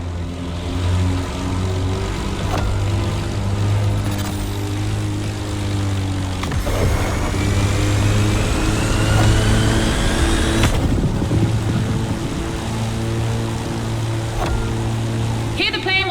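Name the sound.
airplane and car racing in video game The Crew Motorfest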